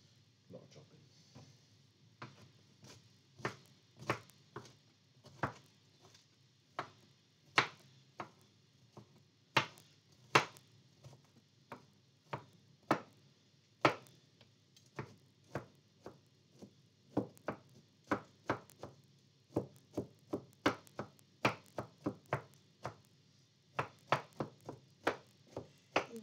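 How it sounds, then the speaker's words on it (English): A knife chops cauliflower florets into small pieces on a board, a long run of sharp, close taps, irregular at first, then quicker and denser. "Chop the florets into smaller and smaller pieces until the cauliflower is the consistency of coarse couscous."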